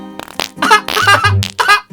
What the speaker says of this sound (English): Edit a butt on screen, play a fart sound.